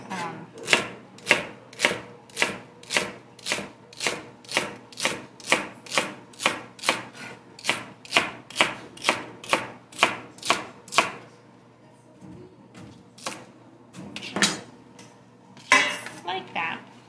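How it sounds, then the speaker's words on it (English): Celery being chopped with a knife on a cutting board: a steady run of about twenty sharp, evenly spaced chops, close and crisp, then a pause and a few scattered knocks and clinks. "Then we're gonna chop some celery that I had also washed."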